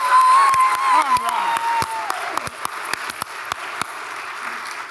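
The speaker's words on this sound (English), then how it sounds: "How about giving everybody a round of applause for their hard work?" Audience applause and cheering fill an awards gala hall, loud and dense at first with a whooping voice, then thinning into scattered claps and fading.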